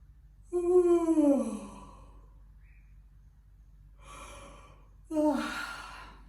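A woman doing an energetic yawning exercise with two fingers behind the ears, producing two long, breathy, drawn-out yawns with descending pitch, close and clear in a quiet room.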